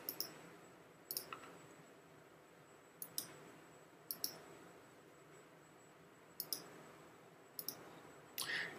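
Computer mouse clicks while working in the GIMP image editor, sharp single and double clicks spaced every second or so against faint room hiss, with no talking.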